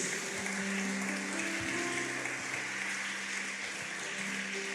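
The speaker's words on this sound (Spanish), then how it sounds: "Pueden dar un aplauso al Señor en su casa." A church congregation applauds the Lord during a Spanish-language sermon, a steady even clapping that fills the room throughout, with sustained low organ or keyboard tones underneath.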